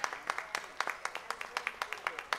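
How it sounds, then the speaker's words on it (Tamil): A small audience gives light, rhythmic applause at an event honouring a salon's best makeover group, fairly quiet, evenly paced claps with a faint background murmur. "நல்ல ஒரு கரகோஷம் கொடுங்க."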